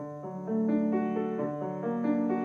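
A short piano passage of sustained chords and moving notes plays smoothly and moderately loud, with no voices.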